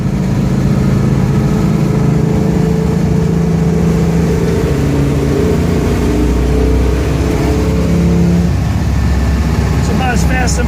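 A 1969 Pontiac GTO's engine pulls strongly along a road amid traffic, a steady loud rumble heard from inside the car, with faint higher tones near the end.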